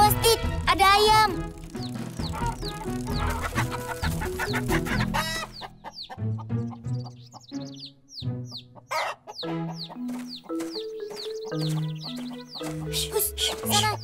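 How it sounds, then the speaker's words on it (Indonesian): A cartoon chicken clucks in an animated scene at a tomato seller's spot, giving repeated short clucks mixed with music, sound effects and children's and adults' voices talking. "Awas, Tit, ada ayam"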